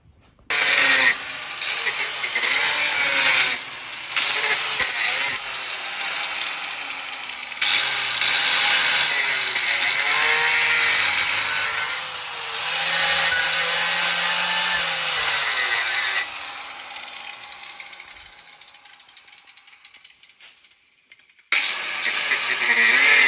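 Cutting off a seized, rusted nut on a trailer with a power tool: long loud grinding and rasping passes with brief pauses between them, and a sharp stop near the end before a final burst.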